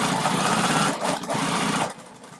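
Short close burst of a sewing machine top stitching straight across a fabric wallet, a fast whirring hum that runs steadily, dips briefly, then slows and stops.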